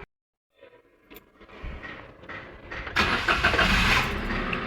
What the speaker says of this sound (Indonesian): sekarang kita tinggal panasin aja mobilnya